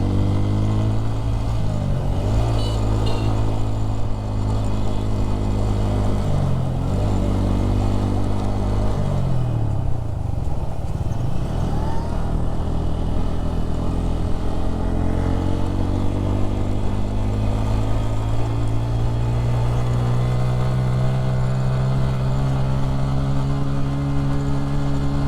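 A motorcycle ridden along the winding road to Sajek hums steadily up close, its engine pitch rising and falling as the rider eases off and accelerates through bends.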